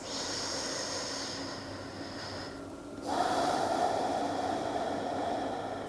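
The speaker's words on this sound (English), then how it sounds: "And take a couple of breaths." Slow, deep breaths taken while sitting on a mat during a meditation session, heard as a long soft airy inhale and exhale that swells partway through, close to the microphone, with no talking.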